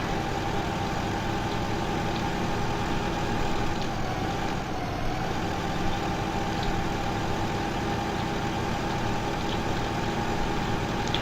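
A farm tractor engine in Farming Simulator 2015 runs at a steady drone for the whole stretch, a constant low rumble with a faint tonal whine and no talk over it.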